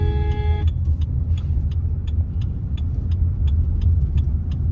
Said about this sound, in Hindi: अब मैंने गाड़ी की स्पीड बढ़ाई, अब गाड़ी मेरी पहुंच गई 4th गियर में